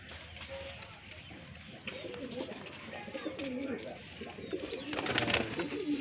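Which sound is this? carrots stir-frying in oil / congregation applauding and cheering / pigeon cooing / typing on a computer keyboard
pigeon cooing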